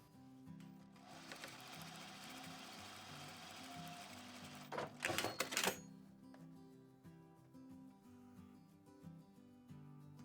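A sewing machine stitches a casing for elastic on reversible baby slippers, running 3/8 inch from a pressed seam; a steady close mechanical hum and rattle runs through, with a louder burst of fast needle clatter near the end.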